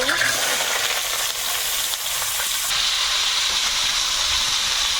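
Steady, loud sizzling of eggplant slices frying in hot oil, a continuous crackling hiss with no voices.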